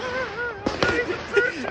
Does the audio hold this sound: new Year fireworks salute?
yes